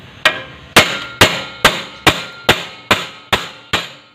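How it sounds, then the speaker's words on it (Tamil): A hammer knocks a motorbike main stand bush into place with nine sharp, evenly spaced metallic strikes, each ringing briefly before the next, loud and close, no voices. "இதுமாதிரி தட்டி வரலன்னா இதுமாதிரி பெண்ட் ஆகிடும். அதனால பெண்ட் ஆகாத மாதிரி தட்டணும்."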